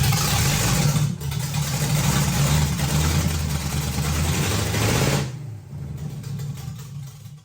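Hot-rod-built 327 Chevy V8 running in a car after its first start in 15 years: a rough, rumbling idle with uneven throttle blips that drops to a quieter, lower idle for the last couple of seconds.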